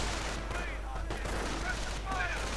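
Scattered gunfire crackles in a World War II strategy game, with rifle and flak fire, in a brief battle fragment; distant pops sit under the steady talk of a commentating voice.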